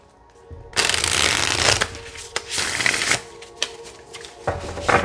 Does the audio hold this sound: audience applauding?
no